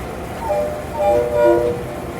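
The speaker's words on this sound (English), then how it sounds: "his locomotive is Nashville, Chattanooga, and St. Louis Railway number 710" A 1950 EMD diesel locomotive, Nashville, Chattanooga and St. Louis Railway number 710, sits on a turntable, giving a loud, steady engine rumble with faint, brief horn-like tones rising and fading.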